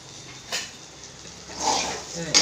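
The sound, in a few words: pot lid opened to check ivy gourd cooking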